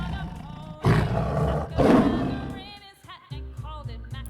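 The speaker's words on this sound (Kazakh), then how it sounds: "арыстан" A lion roars, two heavy, loud bursts close together, then trails off into a series of shorter grunting calls with brief gaps, nearby and with no other sound.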